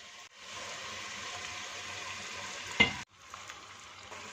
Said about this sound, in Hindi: मज़ीद 2 से 3 मिनट इसे भून लेंगे, इससे बहुत अच्छा इसमें जायका आएगा।